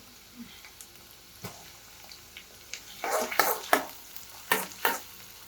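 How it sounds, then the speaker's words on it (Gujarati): Chopped onion added to a pan and frying with garlic, a quiet sizzle punctuated by sharp spatula scrapes and stirring clatters that grow louder and denser toward the end, up close. "હવે આપણે ઝીણી સમારેલી ડુંગળી એક આપણે મીડિયમ રાખી છે એને આપણે આની અંદર એડ કરી દઈશું"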